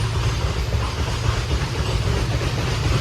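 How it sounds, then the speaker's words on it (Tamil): Goods train passing on a railway track, a loud continuous rumble and rattle of wagons close by, steady throughout without talk. "பின்னாடி கூட்ஸ் ட்ரெயின் வேறு போகுது."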